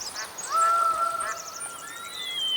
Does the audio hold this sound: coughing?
no